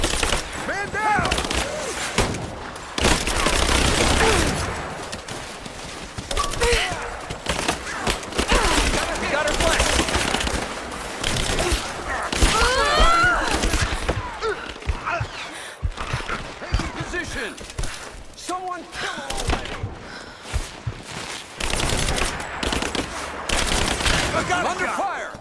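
Sustained gunfire in the video game Rise of the Tomb Raider, dense bursts of shots and automatic fire running throughout, loud and close, with shouted voices over the combat.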